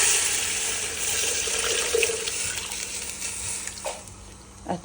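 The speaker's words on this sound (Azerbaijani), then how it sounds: "Ətin bulyonu az olduğu üçün üzərinə əlavə su da əlavə edəcəm indi" Tap water pours steadily into a cooking pot of browned meat, onion and carrot in meat broth, a continuous close splashing stream that runs unbroken and fades near the end.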